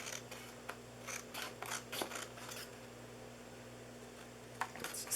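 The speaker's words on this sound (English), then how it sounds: "let's grab the scissors, and I'm going to cut this out first." Scissors snip through paper while a fold-flat box is being made, giving a quiet series of short crisp cuts in an irregular rhythm over a low steady hum.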